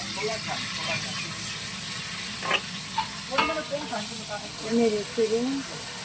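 Ginger paste and garlic sizzle in a hot pan with a constant hiss, broken by clinks and scrapes of a spoon stirring, with a voice heard intermittently.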